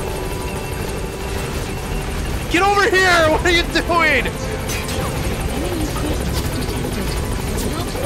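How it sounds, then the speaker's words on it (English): A support helicopter arrives in Metal Gear Solid 5, its rotor drone steady in the background while someone speaks over it and sounds from the game's action rise and fall. "Support helicopter requested."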